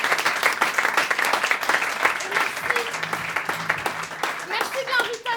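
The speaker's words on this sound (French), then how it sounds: "vous pouvez vous applaudir" Audience applause fills an improv comedy show at a Paris festival, a dense, steady wash of clapping from a full crowd with a few voices and cheers mixed in.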